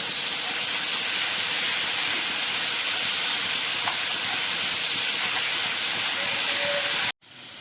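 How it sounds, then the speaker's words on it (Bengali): Garlic and turmeric frying and being stirred in a pan with a splash of water while a spicy fish curry is cooked, a loud steady sizzle and hiss filling the whole stretch before stopping abruptly at the end. "রসুন আর হলুদটা কষিয়ে নিয়েছি"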